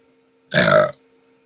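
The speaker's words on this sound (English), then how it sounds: "Pardon me for burping." A single loud, close burp lasts about half a second and breaks an otherwise quiet room with a faint steady hum underneath.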